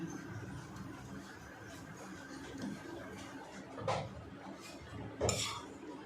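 Afghani egg masala curry is ladled from a pot into a bowl, heard as a few distinct metallic clinks and scrapes of a spoon against cookware, with quiet kitchen background between the knocks.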